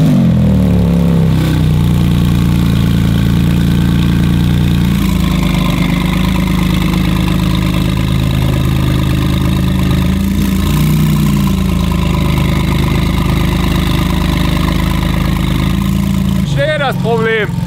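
A Porsche GT2 RS with its exhaust flap open idles steadily, a deep continuous rumble held close and loud throughout, with a brief rising rev blip near the end and people talking over it.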